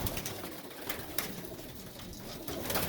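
Pigeons cooing with soft, repeated low calls over a steady bed of birdsong and ambient noise, continuous for the whole stretch with no talking.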